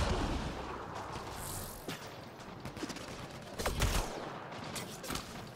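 Gunfire in the Mass Effect Andromeda video game aimed at the player, a steady barrage of rapid shots and booming impacts layered over continuous battle noise, with no voices.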